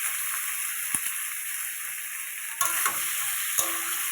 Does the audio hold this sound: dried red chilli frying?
yes